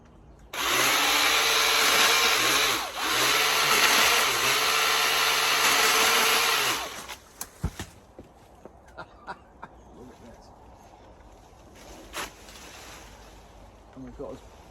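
A Milwaukee Quik Loc cordless chainsaw on a pole saw attachment cuts a branch high up, its loud motor buzzing steadily for about six seconds with brief dips as it bites, then stopping, followed by scattered snaps and light knocks.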